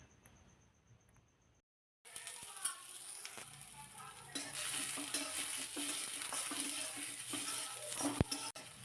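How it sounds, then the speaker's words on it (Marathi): After a quiet start and a brief gap, chopped onion sizzles and crackles loudly in hot oil in a pan, with occasional stirring scrapes against the pan. "मी कढईमध्ये थोडंसं तेल घातलं आणि दोन मोठे कांदे इथे मी चिरून घेतलेले आहेत चिरलेला कांदा या कढईमध्ये घालायचा"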